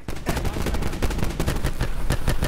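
Rapid gunfire in a video game, a fast automatic burst of sharp, evenly spaced shots that runs unbroken and close for a couple of seconds.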